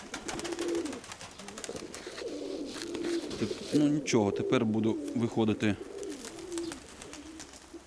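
Racing pigeons coo repeatedly in a loft as someone talks over them, the throaty calls clustering and growing louder midway before easing off.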